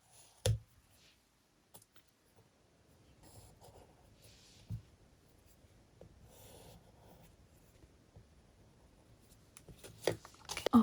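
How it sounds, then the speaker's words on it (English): Craft sticks being cut into spoon shapes, with a few sharp snips and clicks spaced apart amid quiet handling noise, faint and close, plus some soft rustling. "Now let's cut some spoons."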